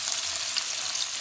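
Chicken frying in oil in a pan for a savour pulao rice dish, giving a steady, close, fairly loud sizzle with no pauses and no voices over the brief stretch.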